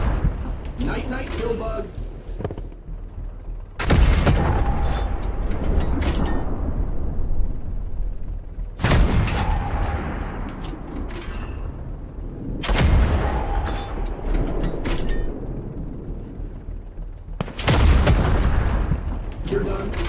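Turrets firing in the video game Tankhead, four heavy booming blasts spaced a few seconds apart, each followed by a rumbling decay, while a player talks between the shots.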